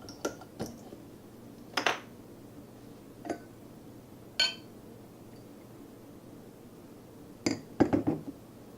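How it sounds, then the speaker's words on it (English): A craft beer, Swamp Head Brewing's Gainesville Green fresh hop IPA, is cracked open and poured into a glass, giving a handful of sharp clinks and taps spread apart before a brief cluster of bright glassy knocks near the end, with no talking. "let's go ahead and get this cracked open into a glass"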